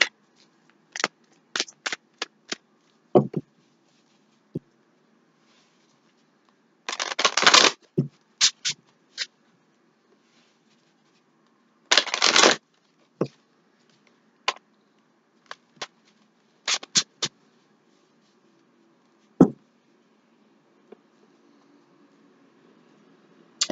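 Tarot cards are shuffled in short bursts of riffling and soft slaps, scattered irregularly with quiet pauses between, close by and with no talking.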